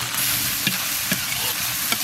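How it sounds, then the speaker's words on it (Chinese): Pork shreds, glass noodles and horn peppers stir-fry in a hot wok with oil, scallion, ginger, garlic and dried chili, giving a continuous loud sizzle broken by a few soft scrapes and knocks of the spatula. "炒香以后先炒羊角丝儿，羊角炒一层，下入肉丝儿粉条"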